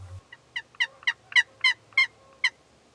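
A wild turkey tom gobbles in a rapid series of about eight sharp, rattling bursts at moderate distance, the calls ringing out clearly over a quiet outdoor background with no talk.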